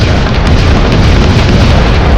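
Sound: cannon fire sound effect in a dramatized story

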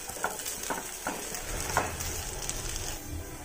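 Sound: roasting and stirring mawa (khoya) in a pan

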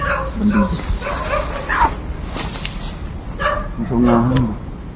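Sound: dog barking

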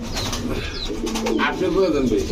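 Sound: cream-eyed giribaz pigeons cooing

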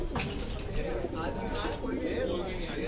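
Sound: pigeons cooing

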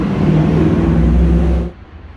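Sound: Rover 75 car driving out of the yard

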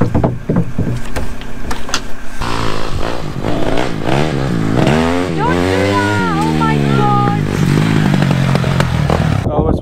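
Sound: scramble motorbike on a farm

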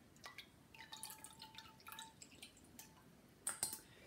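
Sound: vegetable juice dripping while straining

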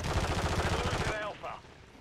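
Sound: gunfire in a multiplayer shooter video game

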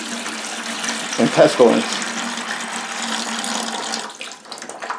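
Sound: pouring water into a bucket mousetrap

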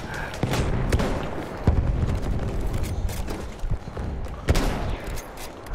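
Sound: grenade explosion and gunfire in video game Battlefield 1

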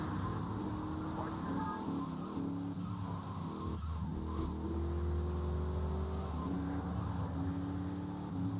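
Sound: car driving in the video game GTA 3

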